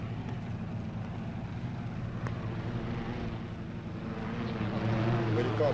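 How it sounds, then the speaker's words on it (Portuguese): A forestry service chartered helicopter circles over a forest fire, its low engine and rotor drone steady and continuous throughout, growing slightly louder toward the end, with a narrator speaking over it. "O helicóptero fretado pelos serviços florestais sobrevoa a zona de fogo."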